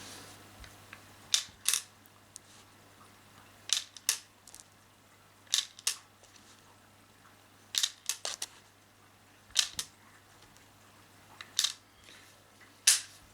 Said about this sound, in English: Let's load up some steel balls.